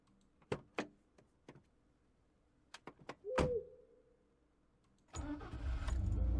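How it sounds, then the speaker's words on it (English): A car engine in the game Tiny Bunny: after scattered clicks and a short whirring crank, the motor catches and settles into a loud, steady rumble that runs to the end. "The car sped toward our house."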